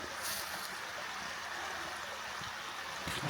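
Steady rushing and trickling water from a small, low creek, a constant broadband wash with no voices.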